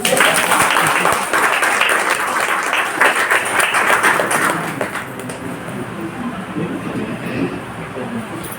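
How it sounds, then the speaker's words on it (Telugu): A seminar audience claps in a loud burst that thins out after about five seconds into softer, scattered clapping. "వీళ్ళు పాటించినందుకు క్లాప్ కొట్టండి"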